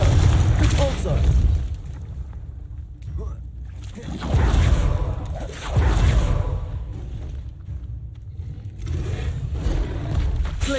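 Spell blasts and impacts in the game Hogwarts Legacy, heard as repeated booming explosions and rumbling surges through continuous loud combat, with a person speaking over them.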